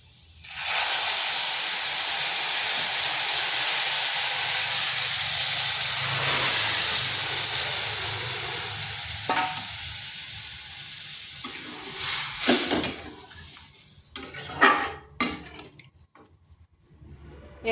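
Papaya and lentils hit a hot spice tempering in a pan on low heat, setting off a loud, steady sizzle that slowly fades, followed by a few sharp stirring and scraping knocks toward the end.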